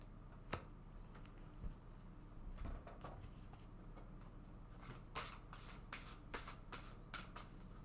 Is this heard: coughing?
no